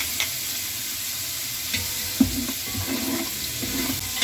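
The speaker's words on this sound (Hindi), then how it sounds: "इसको 2 मिनट तक हमने इसको भूनना है" Browned onions fry in oil with ginger and garlic, producing a continuous close sizzle with occasional stirring clatters and scrapes, no voices.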